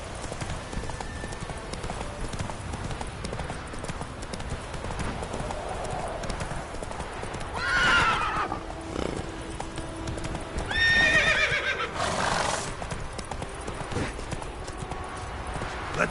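A horse in the video game Witcher 3 trots with a steady clip-clop of hooves and lets out a couple of loud whinnies, one in the middle and one later, while a voice speaks briefly.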